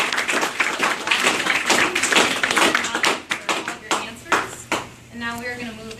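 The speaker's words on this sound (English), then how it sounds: "let's just give a round of applause" An audience at a ward candidate forum on climate resilience claps loudly and densely, then the applause thins into scattered claps and fades as a voice begins.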